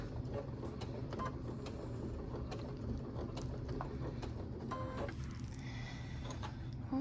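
A sewing machine stitches a quilted hot pad at a 2.5 stitch length, producing a steady low mechanical whir with rapid needle clatter and faint clicks, nearby and fairly quiet.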